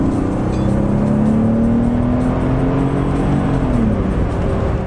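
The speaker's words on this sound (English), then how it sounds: "Upon acceleration, the car effortlessly speeds up without much drama," Mercedes S65 AMG W220 V12 accelerating hard, a loud, steady engine drone whose pitch climbs smoothly before easing off near the end, close and continuous for the full length with no talking.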